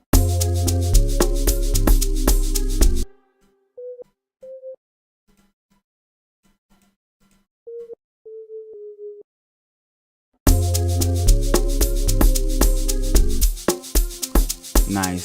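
Amapiano chords made in FL Studio Mobile play back loud and full with a deep bass line, drop out into near silence broken by a few faint sustained tones, then return at full strength.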